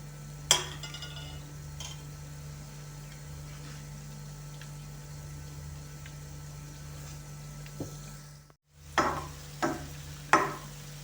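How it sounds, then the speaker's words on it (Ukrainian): Cheese balls deep-fry in hot oil with a steady faint sizzle and hum, broken by a few light clinks and scrapes as a skimmer stirs them. "І щоб вони прожарилися однорідно з усіх сторін, просто ось так перемішуємо легень."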